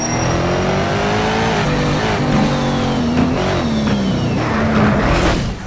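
A race car engine in Need for Speed: Shift roars loud and close as it revs hard, its pitch climbing and dropping through gear changes without a break.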